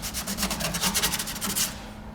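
Scrubbing on the transmission tunnel of a 1969 GTO convertible, heard as quick, rhythmic, close rubbing strokes that fade out near the end.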